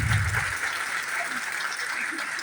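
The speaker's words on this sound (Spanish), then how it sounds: "Vamos a darnos otro fuerte aplauso, pero bien fuerte" Applause from a crowd, dense clapping that holds steady throughout, moderately loud.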